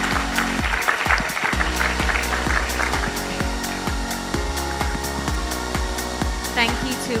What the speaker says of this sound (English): please join me in a round of applause for our distinguished panel of experts